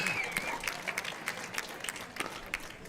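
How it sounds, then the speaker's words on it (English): A crowd at a professional pickleball match applauds and cheers, a dense spread of claps with scattered sharper hits that holds steady for a few seconds. "Big cheer from the crowd"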